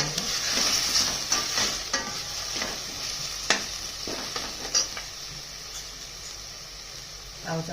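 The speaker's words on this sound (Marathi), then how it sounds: "हिरवी मिरची, लसूण, जिरे। छानपैकी परतून घ्यायचं।" Green chili, garlic and cumin sauté in a pan for a rustic red lentil amti, giving a crackling sizzle broken by repeated spatula scrapes and stirring clicks.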